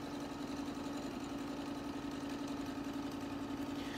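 A sewing machine stitching a Christmas stocking runs at a steady medium speed, giving an even, continuous mechanical hum and rapid needle rhythm that never rises or falls, close and alone.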